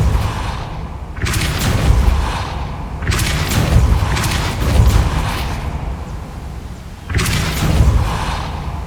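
In Hogwarts Legacy, a Depulso spell is cast repeatedly, and each cast lets out a loud booming whoosh. Three heavy bursts come at regular intervals, separated by a quieter rumbling ambience.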